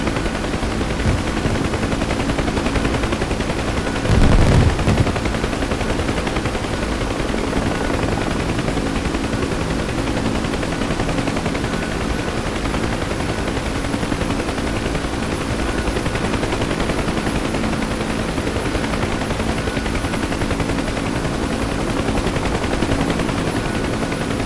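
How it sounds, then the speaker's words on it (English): Sustained automatic gunfire rattles steadily under the droning rotor of a helicopter trying to land during a jungle combat search-and-rescue mission in a video game, with one heavier thump partway through and no talking. "We're getting shot at."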